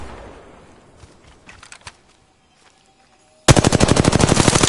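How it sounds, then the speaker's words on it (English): Gunfire in Apex Legends aimed at a cargo bot: after faint game noise and a short quiet gap, a loud, close burst of rapid automatic shots fires in a quick, even rhythm. "Shot the cargo bot."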